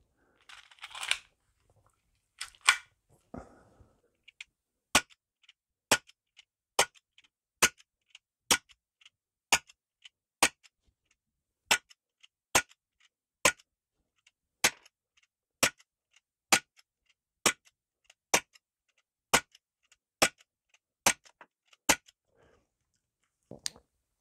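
A Tanfoglio race gun fires a fresh magazine of shots in an even, rapid string of sharp reports, about twenty evenly spaced cracks after a few scattered handling clicks, crisp and close against near silence.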